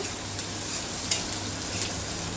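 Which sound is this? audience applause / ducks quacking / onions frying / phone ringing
onions frying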